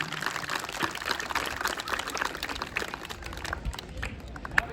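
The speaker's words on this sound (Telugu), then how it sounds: "అందరూ ఒకసారి గట్టిగా క్లాప్స్ పడితే కొద్దిగా బాగుంటుంది" An audience claps together at a police summer event, giving a dense, steady patter of applause that holds for several seconds at moderate volume.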